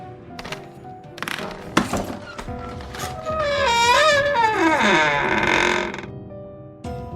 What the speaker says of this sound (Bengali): দরজা খোলার শব্দ